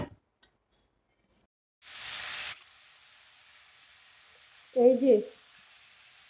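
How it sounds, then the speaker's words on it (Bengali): Desi chicken meat frying in a pan gives a short burst of hissing sizzle in an otherwise quiet kitchen, followed by a brief spoken phrase near the end. "মাংস বসিয়ে দিয়েছি, ভাজা হচ্ছে।"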